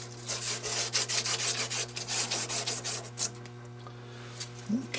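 Shoe-shine polishing of an Uberti 1862 Police revolver part with a strip of sandpaper or abrasive cloth, a close rapid rhythmic rasping back and forth for about three seconds, then quiet.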